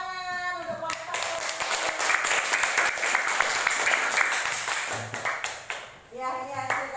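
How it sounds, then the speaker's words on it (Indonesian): A classroom group gives a round of applause for group 1. Many hands clap together for about five seconds, bright and close, with a teacher's voice heard before and after the clapping. "tepuk tangan untuk kelompok 1"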